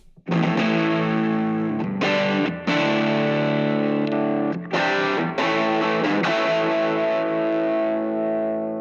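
Electric guitar chords strummed loudly through a small valve amplifier with no pedal, with a gritty overdriven tone, ringing sustains and a few short pauses between phrases.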